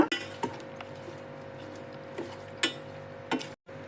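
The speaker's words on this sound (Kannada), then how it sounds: "ಈಗ ನಿಂಬೆ ಹೋಳುಗಳನ್ನು ಹಾಕೊಂಬಿಡೋಣ" Pieces of lemon peel dropped into a container for a peel pickle, giving a few sharp clinks and taps of utensil against the vessel, close and quiet, with no talking.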